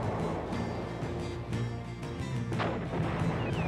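A yacht fires its cannons in the Cossacks strategy game, several sharp booming shots landing over a low rumbling battle bed, with a splash-like crack near the end.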